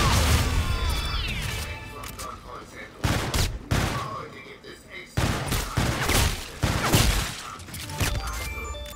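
A grenade explosion and gunfire ring out in Call of Duty Zombies In Spaceland, with sharp bursts of shots and heavy impacts repeating every second or so across the clip, loud and close.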